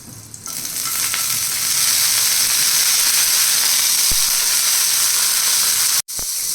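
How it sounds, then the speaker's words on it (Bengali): Ridge gourd fries in a pan, giving a loud, dense, continuous sizzle and hiss that swells after a moment and holds steady, broken by a brief clatter near the end. "আমার ঝিঙে প্রায় ভাজা হয়ে গেছে"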